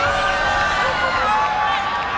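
A crowd at the Alonte Sports Arena in Biñan, Laguna, Philippines, during an ASEAN Basketball League game, keeping up a steady wash of cheering and whooping with a commentator-like voice faintly underneath.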